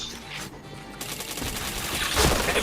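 Rapid video-game gunfire, a dense fusillade of shots with machine-gun bursts, loud and continuous throughout, intensifying toward the end with no talk over it.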